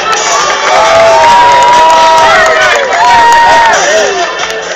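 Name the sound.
applause and cheering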